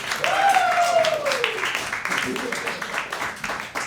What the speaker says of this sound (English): give some applause to Ali